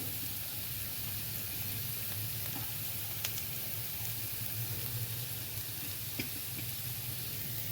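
Vegetables for a pumpkin soup sizzle quietly in a pan, a steady soft frying hiss with a few faint clicks of stirring.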